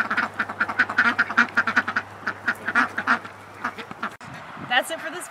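Molting ducks quacking close by in a rapid series of loud, raspy calls, interspersed with honking from a goose, with a person speaking over them.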